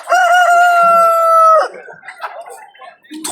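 A rooster at a Tashkent animal market gives one loud, close crow that stretches out for over a second, followed by quieter clucking and market noise.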